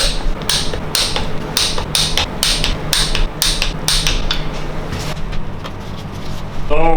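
Hammer taps on BMW N62 V8 engine parts while scraping gasket surfaces during a timing chain overhaul, a steady series of close, sharp metallic strikes in a rhythmic run lasting several seconds.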